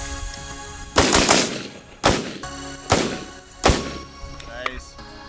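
Four loud, sharp 5.56 rifle shots, about 25 feet away, strike a mobile ballistic shield at irregular intervals, each with a heavy impact thump and a short ringing decay.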